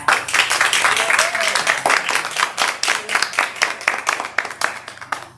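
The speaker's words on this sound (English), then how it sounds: "If you would indulge me, please, and take just a moment to join me in applause for Rodney." A ceremony audience at a veterans history project donation event gives sustained applause, a dense crowd clapping that stays steady for several seconds.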